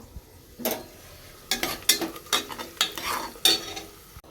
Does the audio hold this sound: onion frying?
yes